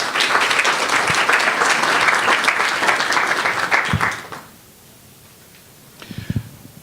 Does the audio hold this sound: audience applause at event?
yes